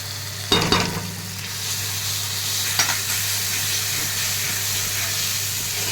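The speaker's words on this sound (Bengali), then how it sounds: "এবার আদা বাটাটা অ্যাড করে দিচ্ছি।" Ginger paste sizzles with fried garlic in a hot pan, a steady close hiss of frying with a couple of sharp clunks as the paste goes in and is stirred.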